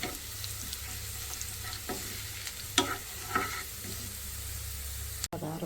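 Garlic and cumin sizzle in hot oil for a dal tempering, a steady close crackle broken by a few sharp spoon scrapes and clinks, with no talking.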